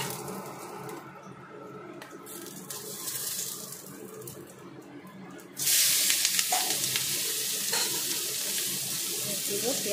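Bay leaf, cloves and small cardamom hit hot oil in a wok, erupting midway into a loud, sustained sizzle and crackle after a quieter stretch of kitchen clatter.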